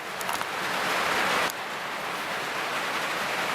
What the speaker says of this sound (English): there's more rain again